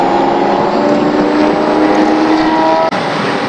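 A V8 engine in a BMW E30 on a racetrack drones loud and steady as it is carried over a car-to-car radio link. The pitch climbs slowly before a brief cut near the end.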